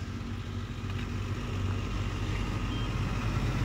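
A car reversing slowly during a driving and parking lesson produces a steady low engine drone and rumble, close and continuous, without speech.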